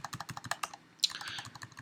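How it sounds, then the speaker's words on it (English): Arrow keys on a computer keyboard are tapped repeatedly in quick succession while fine-tuning an image in a photo editor, a close, crisp run of clicks with a brief blur of keystrokes midway. "What I'm doing is pressing the arrow,"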